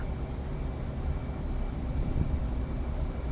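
F/A-18C Hornet jets take off on afterburner in the DCS flight simulator, a steady, loud, broadband jet roar sustained throughout with no talk.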